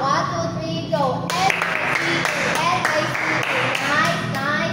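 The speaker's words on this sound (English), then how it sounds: "So let's give a nice clap." A class of children claps together in a burst of rapid, uneven hand claps, close and lively, with young voices chattering over it.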